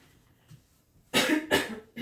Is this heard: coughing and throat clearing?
yes